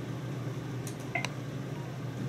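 Telephone keypad dialing tones on an ADA emergency elevator phone connected to a VoIP PBX system, a few short faint beeps in quick succession over a steady low background hum.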